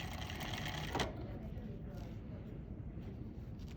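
A sewing machine runs a back stitch along a dart, a steady busy whir with a brief louder clack near the start, close and continuous, with some low background talk.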